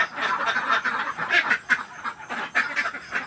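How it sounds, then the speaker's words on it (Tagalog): Ducks kept in a small pen quack continuously, a close, busy chorus of overlapping calls with no talk. "Ayan po yung ating maliit na kulungan. Ayan po yung ating mga itik."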